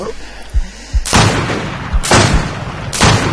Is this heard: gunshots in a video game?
yes